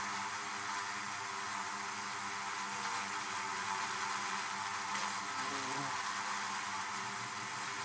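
Honey bees (Apis mellifera) inside a hive, a dense continuous buzzing hum heard up close at a steady low level with no voices.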